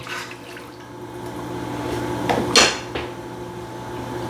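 Scraping and clinking of a utensil against a pan while sauce for smothered pork chops is stirred, with a few sharper metallic knocks over a low kitchen hum.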